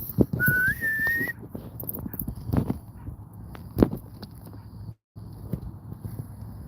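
A whistle calling a dog back on a walk sounds as one clear rising tone, held briefly then stepped higher, over outdoor footsteps and scattered clatter.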